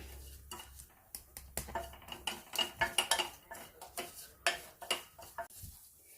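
Leaves wilting in a hot pan over a low flame for a home cold and cough remedy, stirred with a utensil that makes a run of sharp, irregular clinks and scrapes against the metal, close and clear with no voices.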